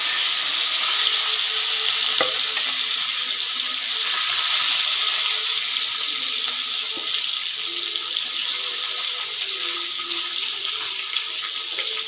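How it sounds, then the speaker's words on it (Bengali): Thick pieces of rohu and catla fish sizzle in a pan of hot oil, a loud, steady, close crackling hiss with occasional sharper pops throughout. "মাছগুলোর এক পিঠ ভাজা হয়ে গেছে"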